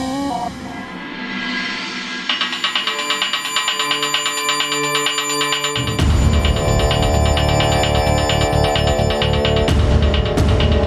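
A mobile phone rings in a domestic drama scene, its bright electronic ringtone looping steadily and loudly with dense tonal layers and a heavier burst midway, no voices over it.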